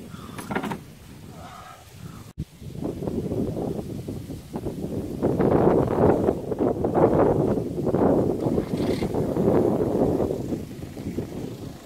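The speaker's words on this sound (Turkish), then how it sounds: "Müthiş bir rüzgar başladı." Strong wind by a creek buffets the microphone in heavy, rumbling gusts that swell and fade, with a brief knock early on.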